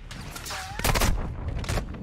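Automatic gunfire in the Call of Duty: Modern Warfare II campaign, loud overlapping bursts and shots close by, with a whooshing sweep early on and several heavy cracks clustered in the back half.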